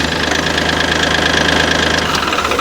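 A Bobcat CT2035 compact tractor engine runs loudly and close, with a steady rhythmic knocking throb and vibration that persists throughout the short burst.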